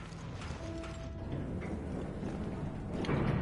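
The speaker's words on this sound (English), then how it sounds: "Oh, this is an operational elevator!" Elevator running in the video game Resident Evil: Revelations, a continuous mechanical grinding and rumbling with faint clanks and creaks, steady and fairly close throughout with no speech.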